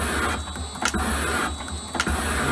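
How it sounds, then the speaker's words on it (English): A metal shaping machine taking cutting strokes at around 50 per minute on a final pass, a steady mechanical hum with two distinct rhythmic knocks as each stroke reverses, close and loud. "we're running around about 50 strokes a minute. This is the final pass on the second side."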